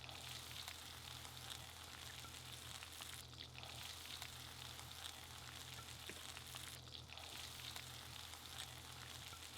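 Cloves, a cinnamon stick and peppercorns frying in oil in a pan, a soft, constant sizzle with faint crackle, low and steady throughout, with no talk.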